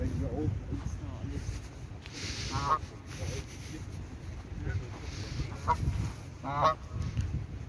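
Geese or ducks at Wöhrder See lake in Nuremberg give several loud, separate honks over a steady outdoor background.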